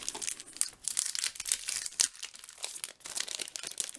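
Crinkling plastic packaging of a stamp set being opened and handled up close, a quiet, continuous stream of rustles and crackles.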